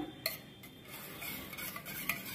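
A spoon stirs garlic paste loosened with paneer water in a pan, giving a steady soft scraping swish with a few small clinks, close and continuous with no talking.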